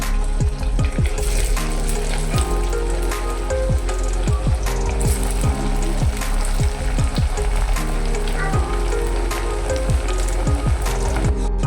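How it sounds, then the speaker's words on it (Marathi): Spinach breakfast snacks fry in hot oil with a steady, loud, crackling sizzle, and sharp pops and bubbling bursts recur throughout. "याच पद्धतीने बाकीचे पण आता आपण तळून घेऊया"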